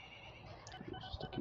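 Horses in a video game whinny faintly, a couple of short neighs rising near the end over a soft background hum.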